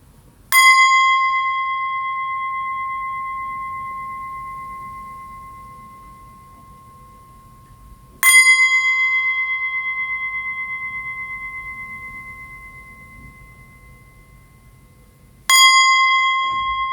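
A loud bell is struck three times for a sound cleansing, each strike ringing with a clear, bright tone that slowly fades over about seven seconds before the next, with no voices.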